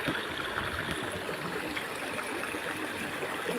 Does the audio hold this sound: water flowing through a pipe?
yes